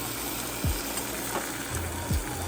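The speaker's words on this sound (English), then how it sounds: "we're going to deglaze the skillet with the sauce mixture" Sauce mixture hits a hot skillet beside stir-fried noodles in a beef chow mein, a steady broadband sizzle with a few low bubbling or stirring thumps, close and continuous with no talking.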